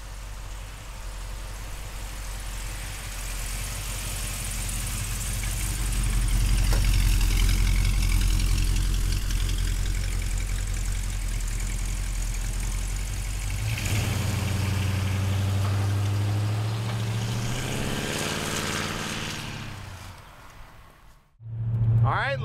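A 1941 Ford pickup truck's V8 engine runs at a steady low rumble that swells in the middle and shifts near the end, with a voice talking over it at times.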